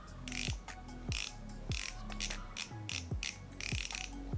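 A bicycle rear hub freewheel with 3 pawls clicks through a series of short ratcheting bursts as the wheel is spun, close up and quiet, with no voices.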